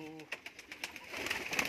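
Red Amritsari pigeons coo softly from close by, a few low murmuring calls followed by short rustles and scattered bird sounds.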